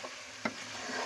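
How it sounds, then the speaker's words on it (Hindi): Chicken fried in oil with garlic, ginger, onion and spices for a curry, a soft steady sizzle with a stirring scrape partway through, faint and close. "लहसुन अदरक सब नीचे प्याज में और मसालों में चिकन भुना जा रहा है।"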